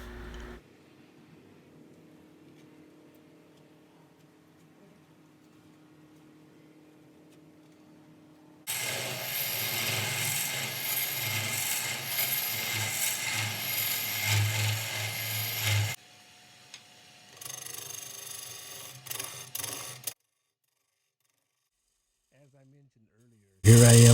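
A lathe gouge cuts into the tough end grain inside a Norfolk Island pine bowl, giving a loud, rough, continuous scraping roar that runs for several seconds, stops briefly, then resumes in shorter bursts before going quiet.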